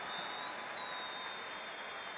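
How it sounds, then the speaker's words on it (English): A basketball arena crowd at the Superdomo in La Rioja, Argentina, applauds a player leaving the game after his fifth foul, a steady, even wash of clapping throughout. "he leaves the game to rapturous applause from the Superdomo here in La Rioja"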